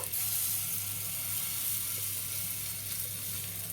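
Hot oil sizzles steadily on a tawa while a fish omelette is being cooked, a close, continuous frying hiss with no talking.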